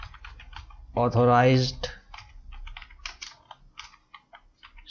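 Typing on a computer keyboard while filling in a sales invoice in Excel: a steady run of light, quick key clicks close by, with someone speaking briefly over them partway through.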